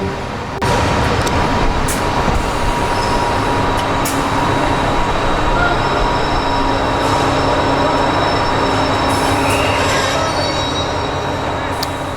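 A Class 201 diesel-electric multiple unit, built for the narrow-tunnel Charing Cross to Hastings line, arrives at a station running late, its wheels squealing loudly over a steady rumbling engine and rail noise throughout.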